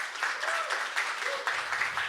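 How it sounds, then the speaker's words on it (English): Brief, faint audience applause at an education workshop on disability and visibility, a thin patter of clapping from a room with a voice briefly heard over it. "round of applause for Stephanie Alvarado."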